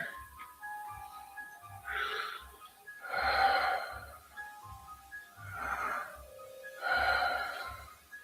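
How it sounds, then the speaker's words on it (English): Slow, measured breathing in an eerie audio drama, with several drawn-out breaths spaced a few seconds apart, close and quiet over a faint low hum, without talking. "You hear breathing."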